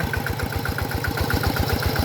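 A Kubota RT100 walking tractor engine, in use for over 30 years, chugs in a fast, even rhythm at close range, its loud, steady low thump running alone without speech.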